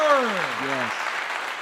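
Audience applause at a live podcast taping rises as a dense, steady clatter, following a short spoken voice at the start and carrying on evenly to the end.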